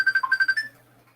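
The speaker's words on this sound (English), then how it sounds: "Oh, sounds like you got a phone call." A phone ringtone plays close by as a short burst of rapid electronic chirping tones, lasting under a second before it cuts off into quiet.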